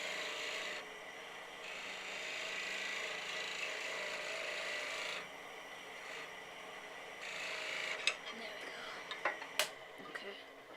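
A spindle gouge taking light finishing cuts on a wooden toadstool-house turning spinning on a lathe, a steady hissing shave that starts and stops in several passes, followed by a few sharp taps and clicks.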